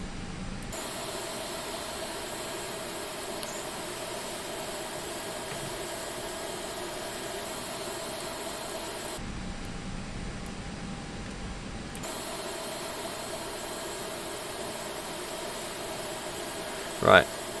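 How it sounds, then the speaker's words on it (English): Lufthansa A320 engines idle inside the Prepar3D flight simulator, a steady droning hiss that continues at an even level through the whole stretch with a brief dip partway through and a short sharp click near the end. "Engines into idle. Engine 1 off."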